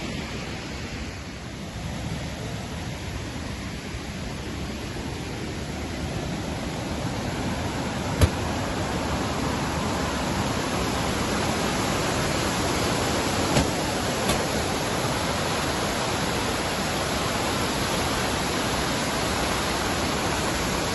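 Bomburu Ella waterfall in Nuwara Eliya, Sri Lanka, gives a steady, close, broadband rush of falling water that stays constant throughout, with no voices.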